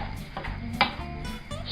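Cooked chicken livers stirred in a pan with a spoon, giving soft scraping and a clack against the metal, fairly quiet and brief with low background hum.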